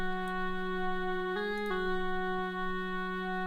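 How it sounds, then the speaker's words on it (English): A VHS brass patch from a Phonic 2 synth holds a steady sustained chord, full and bright, with a brief pitch shift in the middle, played alone and panned slightly right. "then this VHS brass from this Phonic 2 synth"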